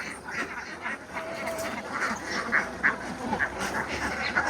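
Ducks on a large duck farm in Laos, roughly 6,000 birds, quack in short, repeated calls over a steady murmur from the flock, with faint background noise throughout.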